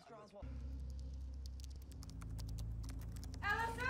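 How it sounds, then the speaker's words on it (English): Keyboard typing in a movie scene, a quick irregular patter of light key clicks over a low steady hum, with a voice briefly heard at the start and end. "I thought that keyboard typing was some nasty, creepy critter just crawling around"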